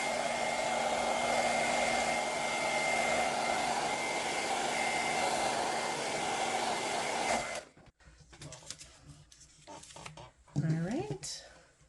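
A handheld hair dryer blows steadily over a layer of a Gelli plate print, a loud even whoosh for about seven seconds that cuts off abruptly, followed by quiet rustling and handling noises.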